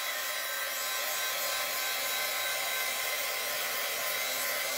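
A hair dryer blows steadily on wet paint on a burlap board, a close, constant high-pitched whoosh that runs unbroken from start to finish with no talking.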